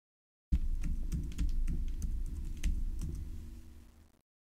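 Rapid, steady typing on a computer keyboard, close and dry, a continuous run of key clicks lasting a few seconds with no talk.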